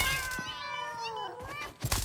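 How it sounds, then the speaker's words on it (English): A cat meows in the video game Satisfactory with arachnophobia mode turned on. The drawn-out, wavering meow is clear and close, followed by a short soft thump. "They turn into cat."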